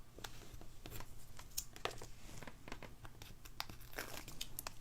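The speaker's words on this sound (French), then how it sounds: "Je vais mettre du double face pour que ça colle tout de suite." Double-sided tape being handled and pressed onto a paper card, giving a run of close crinkling, peeling and tearing crackles in quick irregular bursts with no talk.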